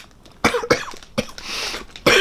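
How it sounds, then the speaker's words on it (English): Several sharp, loud coughs from a person reacting to artificial banana flavour in Swizzels Drumstick Minions Squashies sweets, a burst of rough hacking spaced across a couple of seconds with a breathy rasp between. "Banana stuff makes me cough. It's like this."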